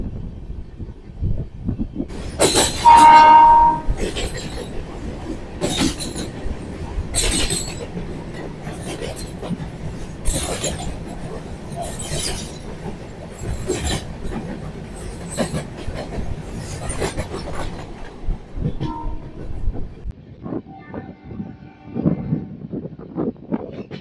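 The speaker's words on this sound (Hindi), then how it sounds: "अब अपनी ट्रेन जो है करवंडिया से निकली है" The Jharkhand Sampark Kranti Express running, heard from on board as a loud steady rumble of wheels on rails with repeated clattering bursts and brief squeals, then a quieter, thinner stretch near the end.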